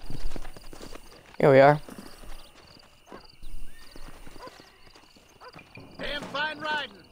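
Horse hooves clip-clop intermittently in the Western video game Red Dead Redemption, with a horse whinny and snorts, while someone talks over the scene.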